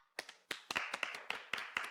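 Hands clapping for Shueman's bravery, a few separate close claps in an uneven, sparse rhythm, fairly faint and with no talking over them.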